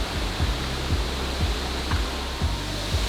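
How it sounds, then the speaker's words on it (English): A waterfall near a charming town in Taiwan roars as a steady, dense wash of tumbling water, with soft, regular low thumps recurring beneath the continuous rush. "You can really hear like the roaring sound of the water like tumbling down."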